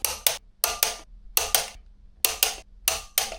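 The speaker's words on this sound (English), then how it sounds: "let's torque it down to spec" A torque wrench ratchets while tightening brake disc bolts on a Yamaha R1, sharp close clicks falling in quick pairs and short bursts with pauses between them.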